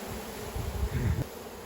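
A swarm of honeybees packed inside a box gives off a soft, low buzzing hum that swells briefly in the middle, fairly quiet and with no voices.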